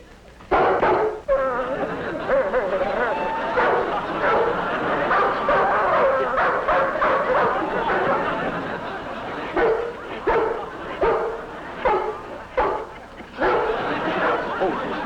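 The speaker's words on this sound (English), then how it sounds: "There's a big dog running loose in the yard" A big dog barks in a yard: repeated loud woofs, yips and whimpers come in bursts, mixed with voices.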